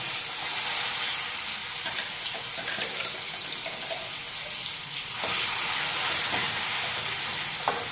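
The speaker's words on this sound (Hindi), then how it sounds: "जो बादाम ये पीसा था ना ये इसका पेस्ट जो है वो इसी घी में हम डालेंगे" Ground almond paste sizzles in hot ghee on a low flame, a steady bright frying hiss with occasional crackles and spatters throughout.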